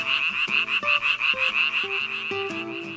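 Japanese tree frogs in a loud, close chorus, with rapid overlapping croaks pulsing steadily and layered calls at several pitches throughout, with no voices.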